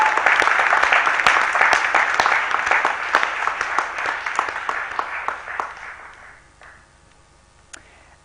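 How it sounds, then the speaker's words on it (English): An audience at a school graduation ceremony gives a loud, dense round of applause that gradually thins into scattered claps and dies away near the end. "Let's give them a round of applause."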